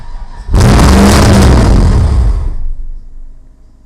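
An LS-swapped BMW E36 cranks and catches with a loud, rough roar that holds for about two seconds, then dies away into near silence.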